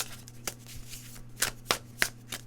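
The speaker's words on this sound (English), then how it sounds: "I feel like I want to shuffle these more." Tarot cards are shuffled by hand in a series of sharp riffling bursts at uneven intervals, close and crisp against a low steady hum.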